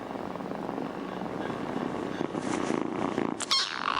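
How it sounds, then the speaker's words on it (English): A recorded cat purr played back aloud, a continuous low rumbling purr held steady throughout, with a brief clatter of handling noise near the end. "you can get 9 hours of cat purring on YouTube"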